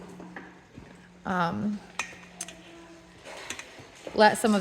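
A metal spoon clinks and scrapes against a metal strainer full of rendered beef fat, with short, sharp metallic taps between stretches of talking.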